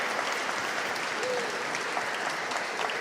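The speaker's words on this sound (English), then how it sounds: "Let's give them a round of applause." A crowd at a legislative reception claps steadily in a continuous, even wash of applause, moderately loud throughout with no talk over it.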